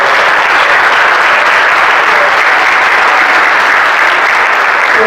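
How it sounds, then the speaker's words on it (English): An audience at a fathers' conference applauding, a dense, loud and even wash of many hands clapping that holds steady for several seconds without talk. "Give it a round of applause."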